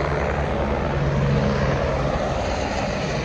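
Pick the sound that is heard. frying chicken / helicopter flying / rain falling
helicopter flying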